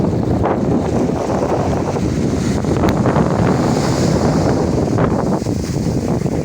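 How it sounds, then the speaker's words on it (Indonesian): Wind and surf roar steadily at Lampuuk beach in Aceh, a dense, loud wash of breaking waves with gusting wind buffeting the microphone throughout. "Alhamdulillah bisa menikmati pemandangan Pantai Lampung."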